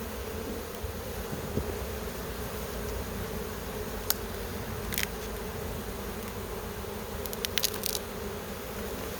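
Honey bees buzz in a steady, close drone throughout a full inspection of a National beehive, with a few faint clicks and taps of hive parts and no talking.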